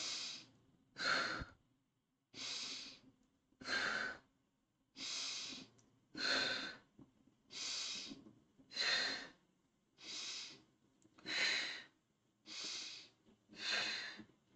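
Rhythmic breaths during a face yoga workshop exercise, about a dozen evenly spaced airy exhales, roughly one per second, close and clear with no talking over them.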